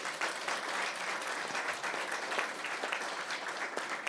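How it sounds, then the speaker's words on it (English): A seated crowd at an annual general meeting applauds steadily, a continuous, moderately distant patter of many hands clapping without pause for several seconds. "So maybe we'll give them all another round of applause."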